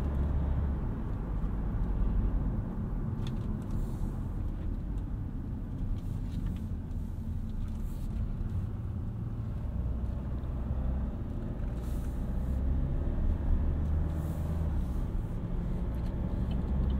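A 2015 Chevrolet Cruze diesel is heard from inside while driving, with a steady low engine drone and road rumble that holds even for the whole stretch. It stays smooth and fairly quiet, with faint light ticks above it.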